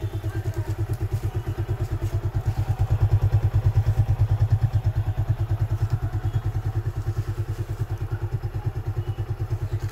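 A Suzuki Gixxer Monotone motorcycle idles close by with a steady, even single-cylinder thump, swelling briefly in the middle, and no voices.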